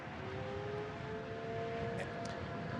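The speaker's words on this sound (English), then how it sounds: "if you hear out in the distance, the sirens are going off." Tornado warning sirens wail faintly in the distance during a severe storm in eastern Iowa, a slow drawn-out tone over a steady low outdoor rumble.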